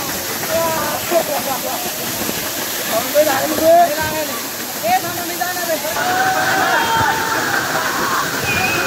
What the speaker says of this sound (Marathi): तर हा होता जांभूळकडा धबधबा